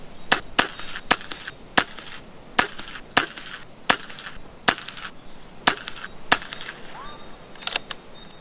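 Macavity Arms MA2 air rifle firing JSB pellets at around 880 feet per second, giving roughly a dozen sharp, close cracks spaced about half a second apart, each quick and clean over a quiet background.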